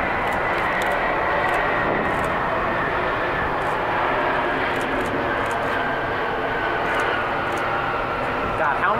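A Delta airliner in new livery, fitted with split scimitar winglets, passes near Atlanta airport. Its engine roar is steady, loud and broadband, filling the whole clip as people talk over it.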